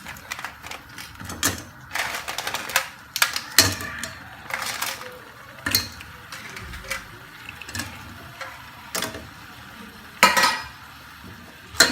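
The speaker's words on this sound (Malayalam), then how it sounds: "ക്രാബ് ചേർത്ത് നമുക്ക് നന്നായിട്ടൊന്ന് ഇളക്കി കൊടുക്കാം." Crab pieces stirred into masala in a pan over medium heat for a Kerala-style crab roast, with repeated scraping and clinking of a spoon against the pan and soft sizzling between strokes, close and moderately loud.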